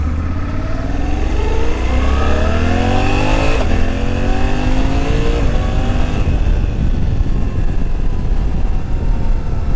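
A 2023 Suzuki V-Strom 800 motorcycle engine accelerates hard, its loud droning pitch rising through several gear changes, then settling into a steady roar mixed with heavy wind rush.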